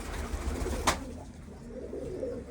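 An Omsk pigeon gives a soft, low coo, faint and brief, with a short sharp noise just before it in a quiet room.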